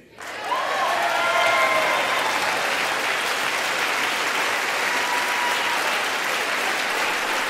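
Congress breaks into applause during the State of the Union address, a dense, sustained roar of clapping in a large chamber that swells quickly and holds strong, with a few faint cheers within it.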